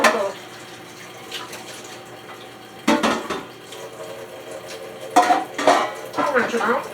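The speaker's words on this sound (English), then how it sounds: "I'll rinse them out." Baking pans rinsed under a running kitchen tap: water gushes in short bursts while the metal pans knock and clatter against the sink, close by.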